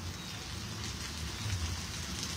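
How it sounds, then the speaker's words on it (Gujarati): Light rain falling in Sayajiganj, Vadodara, at night, heard as a soft, even hiss of drops on surfaces, faint and constant. "અત્યારે સયાજીગંજમાં તો ધીમી ગતિ વરસાદ ફરી થઈ ગયો છે"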